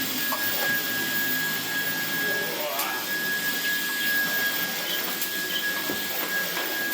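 A Dyson V11 cordless vacuum cleaner runs in boost mode over a rug, giving a loud, steady high-pitched whine and airy roar throughout with only small shifts as the head moves.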